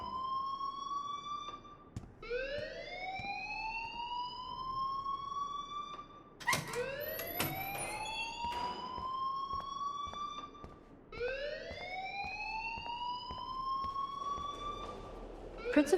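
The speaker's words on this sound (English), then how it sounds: "please turn off that alarm since that's your job" A fire alarm in the Life Is Strange video game wails in rising electronic sweeps, each climbing then holding, repeating about every four to five seconds, loud and continuous with no talk over it.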